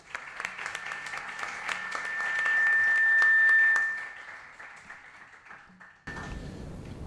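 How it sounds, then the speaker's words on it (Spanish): Audience applause follows the introduction of a speaker at a political lecture, with a steady wash of clapping that swells in the middle and fades, and a tonal whine running through part of it. "démosle un grande aplauso"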